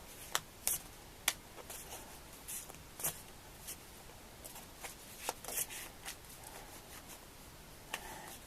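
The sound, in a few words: shuffling tarot cards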